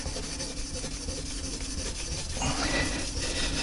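Grade 0 wire wool rubs across a clock dial during restoration, making a continuous close scratchy hiss that grows slightly coarser and louder toward the end.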